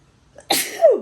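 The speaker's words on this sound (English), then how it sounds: "I'm going to sneeze." A woman gives a single sharp sneeze up close: a short intake, then a loud burst ending in a brief vocal squeak.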